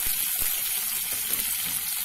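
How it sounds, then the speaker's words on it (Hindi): Tomatoes frying in a pan for spicy momo chutney give a steady, close sizzle with a few brief stirring clinks, and no one speaks. "और टमाटर गलने तक हम इसे भून लेंगे।"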